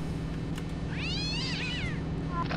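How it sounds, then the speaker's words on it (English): A cat in the shooter game Postal 2 lets out one long, wavering, squeaky meow in the middle, close and loud above a constant droning background hum, with no speech. "Why does the cat keep squeaking?"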